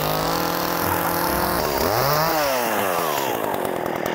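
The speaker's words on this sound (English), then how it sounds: "We're using power tools." A power tool used for cooking whines loudly and steadily, its motor pitch sweeping down and back up as it loads and revs, with a harsh, buzzing drone throughout.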